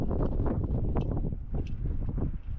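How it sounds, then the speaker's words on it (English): Strong wind roaring steadily across an outdoor work area, loud broadband gusts buffeting the microphone with rustling debris throughout. "the wind is blowing like crazy"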